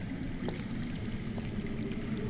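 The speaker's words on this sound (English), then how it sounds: "That's water. I hear water. From underground." Flowing water running underground in the Game of Thrones video game, heard as a steady, even rushing wash with faint trickling splashes, continuous and moderately loud throughout.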